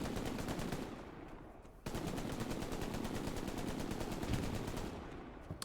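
Rapid machine gun fire in the World War II shooter Hell Let Loose, a dense continuous stream of shots with a brief dip before the firing resumes just as heavily.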